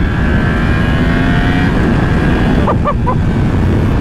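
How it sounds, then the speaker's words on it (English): A 2021 Yamaha R1M engine drones loudly and steadily under heavy wind rush while riding, with a brief rise in pitch near the end. "I hope that you guys can hear a little bit of the engine sound, because it does sound really freaking good"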